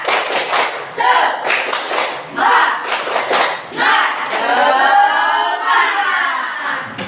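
Children in a classroom clap their hands in short sharp pairs between bursts of chanted voices, the claps loud and close, followed by a long drawn-out shout from the group.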